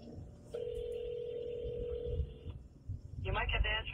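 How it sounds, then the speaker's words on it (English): A telephone call being dialed, with a steady dial tone running for about two seconds and then a quick burst of dialing tones, all over background noise and a faint voice. "Can you pick up the phone if I call right?"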